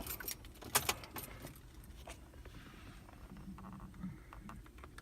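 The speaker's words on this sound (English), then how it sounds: "We're going to turn the ignition back off." Car keys jangle on their ring as a Ford's ignition is switched off, with a sharp metallic burst near the start and lighter rattles after, over a faint background hum; no one speaks.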